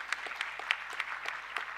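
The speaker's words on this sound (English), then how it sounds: "Please give a big round of applause to all our guests." Conference guests receive applause from a small audience: a thin, sparse patter of separate claps, fairly quiet and distant, with individual hand strikes standing out in an uneven rhythm.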